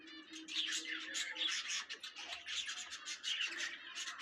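Many caged birds chirp and tweet continuously at a crowded bird and animal market in Mirpur 1, Dhaka, with overlapping calls and occasional scratching and cooing.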